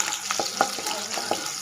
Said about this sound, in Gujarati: ડુંગળીનો કરી વઘાર,